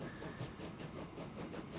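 Small train running slowly uphill in Transport Fever 2, a soft continuous rail rumble with gentle periodic pulses and a faint hiss, quiet and unaccompanied by voices.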